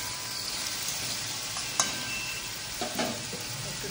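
Ridge gourd curry sizzles gently in a pan as a spoon stirs it, a soft steady frying hiss broken by a few scraping clinks, close and quiet with no voices.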